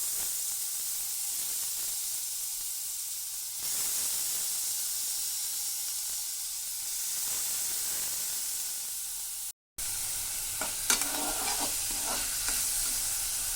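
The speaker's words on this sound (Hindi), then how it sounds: "एक दो मिनट तक हम पहले दाल को हल्का सा भूनेंगे।" Whole moong dal is roasted in a little oil in a kadhai over a low gas flame, a steady close hiss and sizzle with scraping stirring strokes growing busier after a brief cut.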